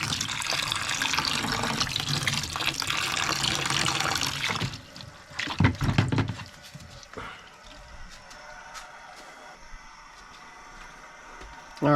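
Filthy water flushes out of a hydronic radiant floor heating loop, gushing loudly and steadily for several seconds, then breaking into sputtering bursts and quieter trickles and drips, close by with no talking.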